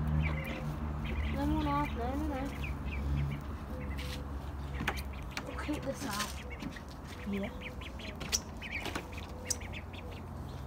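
Ducks kept with chickens in a backyard pen in cold weather: a few nasal quacks and calls come early, under steady low hum and a person talking nearby, followed by scattered clatter.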